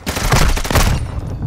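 Dense bursts of rapid automatic gunfire from the video game Call of Duty: Modern Warfare II, loud and close, several overlapping volleys that tail off after about a second.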